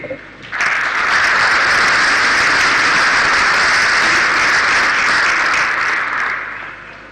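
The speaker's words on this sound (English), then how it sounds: "Another round of applause for our first set of statements" Sustained applause from a conference audience at a global cyber capacity building event, rising sharply after a brief pause and holding loud and steady for several seconds before tapering off, with no talk over it.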